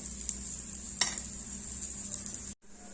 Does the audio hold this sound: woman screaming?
no